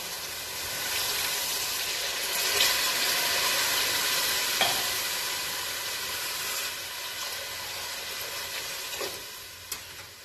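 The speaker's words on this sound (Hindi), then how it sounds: "अब हम इसमें पानी डालेंगे कोई 3 गिलास" Water is poured into a pot of soaked basmati rice and peas for matar pulao, giving a steady, close rushing hiss with a sizzling edge and a few soft knocks, with no talking.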